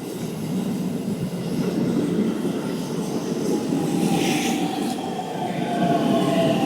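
A train rolls past near Mt. Fuji, a steady broadband rumble with a rising hiss and faint squeal that swells slightly toward the end, heard close and without voices.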